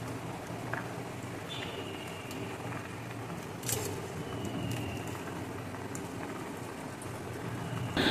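Used tea leaves simmer in about a litre of water on a gas stove, giving a dense, steady bubbling and hiss that continues without pause at close range, with no voices.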